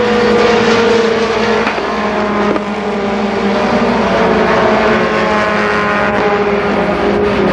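Mini stock race cars lapping Columbus Motor Speedway, a loud continuous engine roar that stays steady throughout with no distinct single pass-bys.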